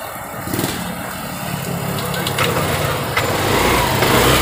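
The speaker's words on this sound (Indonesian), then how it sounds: "Oke, mesin nyala lagi guys ya, pertanda ini mesin hidup ya." A Lexi fuel-injected motorcycle engine runs steadily at close range, a continuous low rumble with broadband noise that builds slightly louder toward the end.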